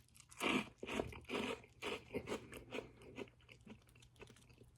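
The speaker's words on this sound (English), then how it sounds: "Now let's find out for the dry crunch what we're in for." Dry Twinkles cereal crunched between the teeth in a close, loud burst of crisp bites, followed by steadily softer rhythmic chewing over several seconds.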